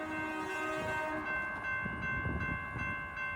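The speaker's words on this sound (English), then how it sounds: "Double trains have been coming through Fort Collins as of 2019" Train rolling through Fort Collins, Colorado, a steady close rumble of cars on the rails with a sustained horn-like tonal blare over it, no talking.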